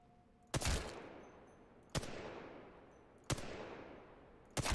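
Assault rifle hip fire in the video game Apex Legends: four sharp, loud gunshot bursts spaced about a second and a half apart, each trailing off in a long echoing decay, with no talking.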